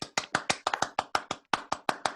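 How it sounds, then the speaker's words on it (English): A single person claps alone, close and crisp, about a dozen evenly spaced hand claps with a brief gap partway through, as a virtual round of applause in an online meeting. "Can we give her a virtual round of applause?"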